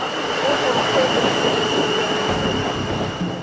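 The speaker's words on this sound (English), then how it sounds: "Do you want to get the number of that train?" A train passes along a railway line with a steady rumbling roll of wagons and a faint high wheel squeal, loud and continuous for a few seconds.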